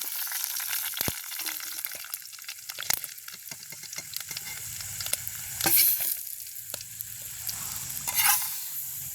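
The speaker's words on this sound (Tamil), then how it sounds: "கணவாய் பொறிக்க எங்களுக்கு பிடிக்கும்" Squid pieces frying in a pan with oil, a steady sizzle with scattered sharp pops and spatters and occasional stirring scrapes, close and fairly loud throughout.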